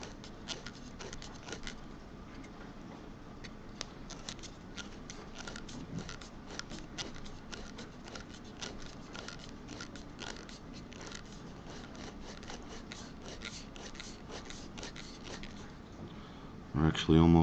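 Plastic tube for a LavaTank being cut with a rotating tube cutter, giving a steady scraping, crunching texture with faint clicks throughout and a louder knock near the end, with speech present.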